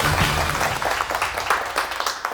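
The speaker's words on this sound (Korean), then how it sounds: "박수 부탁드립니다." Audience applause marking the judges' team win in a final match, a dense patter of clapping that begins loud and slowly thins over a couple of seconds, with no talk over it.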